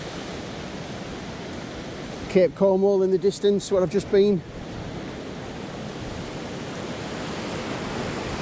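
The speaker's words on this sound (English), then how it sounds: "some banging waves coming in" Ocean waves roll and break along the Cornwall coast in strong wind, a broad steady roar with buffeting wind noise throughout, while someone talks briefly over it in the middle.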